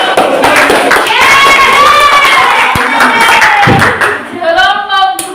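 Classroom applause for a student group, with brief patter of clapping mixed in with a teacher's voice and other voices, fairly loud and close.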